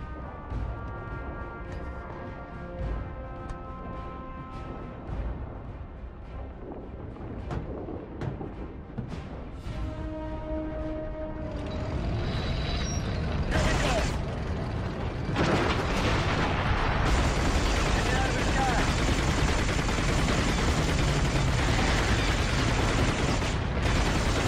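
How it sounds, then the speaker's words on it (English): Heavy tank cannon and gunfire in The Darkness video game, a run of loud booming blasts and mechanical clatter building into a dense, continuous barrage of explosions in the second half, with no talking. "Get onto the tank, Jackie. Man the gun, I'm driving."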